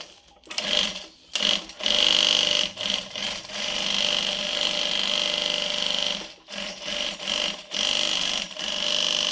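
A JUKI DU-1181N walking-foot industrial sewing machine stitching in bursts, a fast whirring run with brief stops between, close and fairly loud with no talk.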